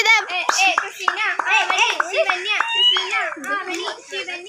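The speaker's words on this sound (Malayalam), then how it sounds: "എല്ലാരും ഒന്ന് കൈയടിച്ച്" Children clap their hands during a traditional Onam game, with rapid clapping under lively, overlapping children's voices that call out and chant throughout.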